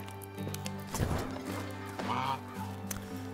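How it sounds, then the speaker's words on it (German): Geese honking in the Medieval Dynasty video game, a goose and gander in a farm pen giving a few nasal honks amid a low steady ambient drone. "hier sind unsere Gänse"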